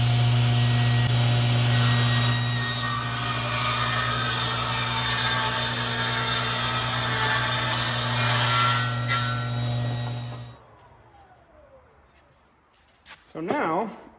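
A saw with a slide cuts a rabbet into a thin barnwood plank, a loud, steady motor hum and cutting noise running about ten seconds before shutting off, followed by quiet handling and a voice.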